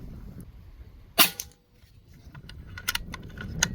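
A Benjamin Bulldog .257 air rifle fires one sharp, loud report partway through, followed by faint clicks and small metallic rattles in a quiet outdoor setting.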